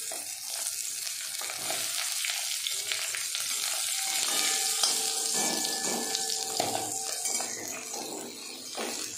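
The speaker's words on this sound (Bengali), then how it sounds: "মাছ ভাজা মানেই আমার লঙ্কা ভাজা" Fish and two slit green chilies fry in hot oil in a pan, giving a loud, steady sizzle with occasional stirring and utensil sounds and no talking.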